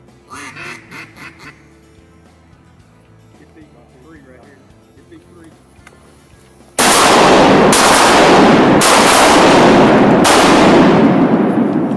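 Duck hunt at a Mississippi wetland: ducks quack and people talk quietly at first, then several loud, close shotgun blasts follow in quick succession, each trailing off.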